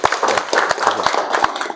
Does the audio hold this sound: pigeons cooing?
no